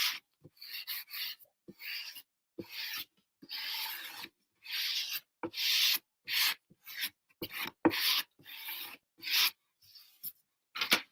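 A smoothing tool rubs over a winged snow globe craft piece in quick, close, repeated scraping strokes, about twenty short raspy bursts separated by brief silences.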